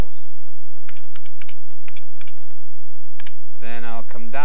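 Keys clicking on a vintage IBM computer keyboard, a series of sharp separate taps spread unevenly across the stretch, with a voice speaking briefly near the end.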